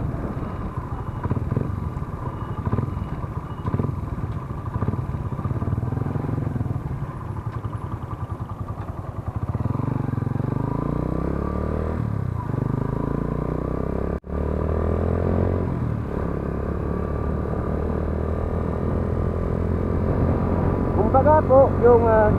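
A Honda TMX 125 motorcycle engine runs steadily with a low, continuous drone that rises slightly in pitch toward the end, fitted with a 15-36 sprocket combination. A voice talks over it throughout.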